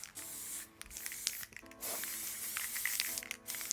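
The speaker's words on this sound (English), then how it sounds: "I went back again and sprayed the whole thing with a nice matte khaki green coloured spray paint" Spray paint can spraying matte khaki green paint onto a miniature diorama, several hissing bursts of varying length separated by short pauses, close and fairly quiet.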